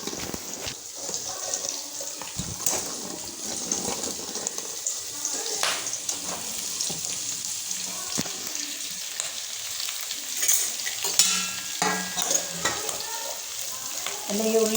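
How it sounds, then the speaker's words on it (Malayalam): Spring onion sautés in a little oil in a pan, a close crackling sizzle broken by scraping stirs of a utensil, while a voice speaks intermittently over it. "ഒരു പാത്രം വെച്ച് ഒരിച്ചിരി എണ്ണ ഒഴിച്ച് അതിലിട്ട് നമുക്കൊന്ന് വഴറ്റിയെടുക്കണം"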